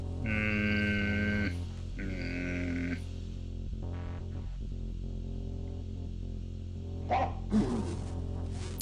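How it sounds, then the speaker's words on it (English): Demon dogs zapping in the video game 868-HACK: buzzy electronic tones with harmonic bands hold for about three seconds in two bursts, followed by softer crackling game sounds and a couple of sharp noisy zaps near the end. "the demon dogs make the scariest noise when they zap you"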